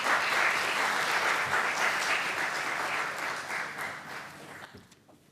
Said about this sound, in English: please give a round of applause for Dr. Nayak.